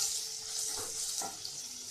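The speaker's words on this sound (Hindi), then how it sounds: "इन सभी मसालों को मैं अभी हाई फ्लेम पर भून रही हूँ।" Whole spices with ginger-garlic-green chili paste frying on high flame for handi paneer, a steady close sizzle filling the clip with a couple of brief stirring scrapes, no voices.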